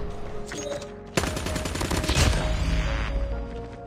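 A Razorback gun fitted with a rapid fire mod bursts into loud, dense automatic fire in a video game, a short quieter stretch giving way to a sustained hammering volley of rapid shots.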